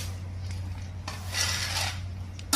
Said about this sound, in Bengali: এই যে আমি এখানে ছোলা দিয়ে দিছি